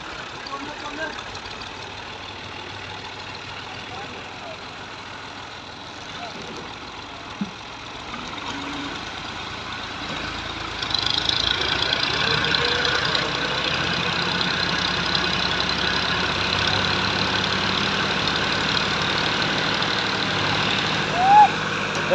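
A FIAT 480 tractor stuck in a bed runs with a steady mid-pitched diesel rumble that grows louder and rougher about halfway through as the engine strains, with people talking over it.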